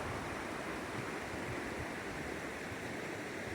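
Quill Creek just south of Haines Junction rushes along after a day of rain, a steady broadband roar of flowing water that stays loud and unbroken throughout with no voices.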